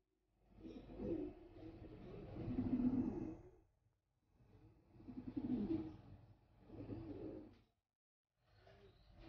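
Racing pigeon hen cooing close up in a loft, three soft, low, rolling coo phrases separated by short silences.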